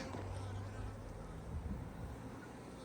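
Honey bees humming at an open hive being split in spring, a faint steady low buzz that continues throughout with no talking.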